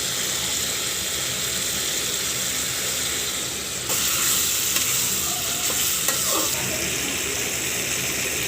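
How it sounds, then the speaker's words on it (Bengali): Fish pieces fry in spice paste with turmeric, chilli powder and bay leaves in a pan for a kochur loti curry, a steady loud hiss and sizzle that swells partway through, close up, no talking. "এবার এর মধ্যে মাছের টুকরোগুলো দিয়ে দেব।"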